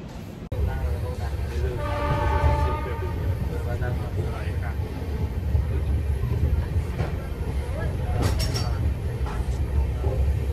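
Steady low rumble of a moving train carriage on the way to Mathura, India, with rattling and clatter throughout and a brief whistle-like tone early on.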